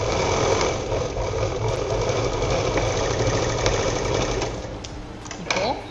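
A sewing machine whirs steadily and loudly up close as it stitches lining cloth for a small purse, running continuously with a voice over it.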